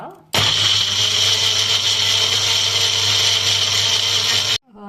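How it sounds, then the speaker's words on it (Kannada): Mixer grinder grinding garlic masala for a Mangalorean prawn curry, switching on abruptly and whirring loud and steady for about four seconds before cutting off. "ಈಗ ನಾವು ಗ್ರೈಂಡ್ ಮಾಡುವ"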